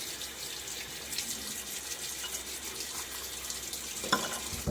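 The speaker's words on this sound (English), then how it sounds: "I feel like I should probably put a little bit more water in here." Tap water running into a shaving soap bowl during a wet shave lather, a steady faint trickle and splash held throughout, with a brief louder splash near the end.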